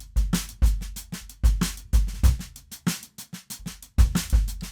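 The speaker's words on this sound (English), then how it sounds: "This is called the King Kong beat," Drums play the King Kong beat, a right-left-right-right sticking pattern with punchy low kicks and sharp hits in a quick, repeating, syncopated groove, close and with no talking.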